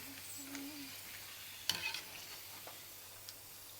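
Pani puri fry in hot oil with a faint, continuous sizzle, broken by a sharp clink of a utensil and a few small stirring ticks.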